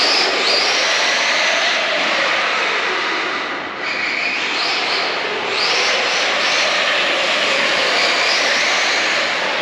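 A small RC car makes a pass through a concrete parking garage, its electric motor giving a continuous high-pitched whine that swells and echoes, dips briefly, then surges back loud.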